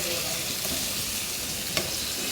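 Carrots and capsicum fry in a pan with a steady, close sizzle and one brief clink of a utensil, with no voices.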